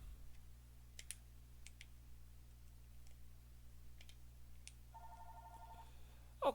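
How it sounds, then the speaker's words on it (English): A telephone rings once in a short warbling burst near the end, set against a steady low electronic hum from the Tecmo Super Bowl video game playing in the room. "Stupid phone."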